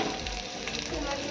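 Onion fries in hot oil with a dense, steady sizzle that stays close and even throughout the short moment.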